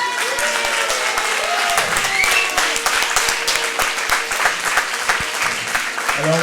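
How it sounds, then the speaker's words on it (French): An audience at a high-school film festival in Saint-Just applauds the festival jury, with loud, dense clapping that runs steadily throughout. "d'accueillir avec de forts applaudissements les membres du jury du Festival du film lycéen de"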